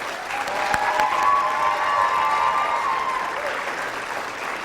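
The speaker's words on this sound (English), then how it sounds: "let us applaud Delaney Thomas Brown" Steady crowd applause at a Martin Luther King community event honoring a second grade art winner, rising quickly, holding loud and full, then easing slightly, with faint voices mixed in.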